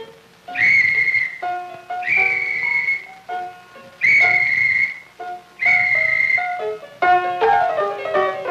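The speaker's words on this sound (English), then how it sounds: "The pastor eagerly accepts the volunteer and whistles back his young people." A pastor's whistle blows in a 1967 church film, giving a loud, shrill repeated call of four similar rising-and-held phrases with a warbled final burst and short pauses between them.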